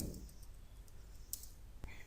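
Light clicks of keys being typed on a computer keyboard, quiet and sparse, with a couple of sharper taps.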